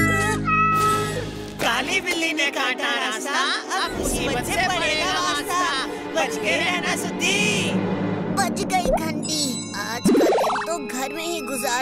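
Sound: black cat meowing in a cartoon

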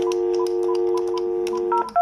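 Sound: telephone DTMF dialing tones on an NEC SV9100 PBX phone

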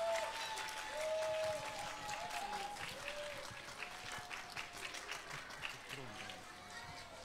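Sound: audience applause as the Christmas Eve cake is brought in

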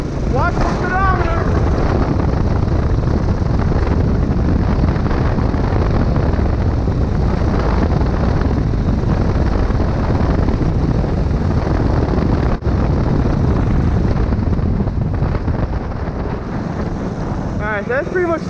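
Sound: gas motor go kart accelerating

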